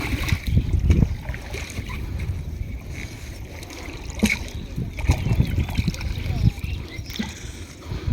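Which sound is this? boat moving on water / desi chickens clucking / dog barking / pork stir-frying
boat moving on water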